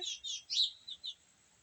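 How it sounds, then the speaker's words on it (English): Small birds chirp outdoors in a quick series of high, bright tweets, about five or six short calls in the first second, then quiet; faint and slightly distant, with no talking. "Got some birds talking."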